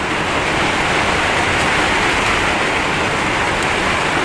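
Dense, steady roar of heavy rain pouring without a break, loud and close, with no talking.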